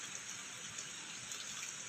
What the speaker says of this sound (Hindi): कितनी बारिश हो रही है, मतलब रात से ही हो रहा है और हवा भी बहुत तेज़ चल रही है